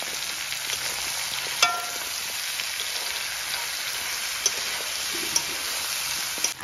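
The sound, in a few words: chicken frying in pan with spices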